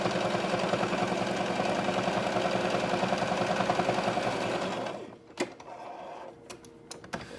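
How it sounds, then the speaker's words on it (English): A sewing machine stitches together pieces of face mask fabric with a loud, rapid mechanical chatter that runs continuously for about five seconds. It then stops, leaving a few scattered clicks and handling noises. "now we're gonna start sewing these together"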